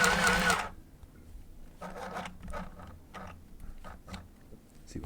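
A sewing machine double-stitching a fabric chess board, with a loud burst of fast stitching at the start, then several shorter rattling runs of stitching with brief pauses between them.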